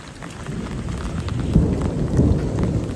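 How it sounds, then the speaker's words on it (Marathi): Heavy rain pours down steadily during a sudden first monsoon downpour at night, with deep rumbling thunder swelling twice over the constant hiss, fairly loud and close, no voices. "सो अचानक पाऊस आलाय"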